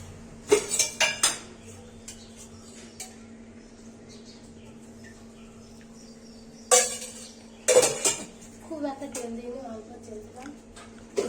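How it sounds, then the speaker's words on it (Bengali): Metal pots and utensils clatter and clink in short bursts at a wok while cooking, separated by quiet stretches with a low steady hum. "চলো এবার আমি একটু কড়াই তেল দিয়ে দিই"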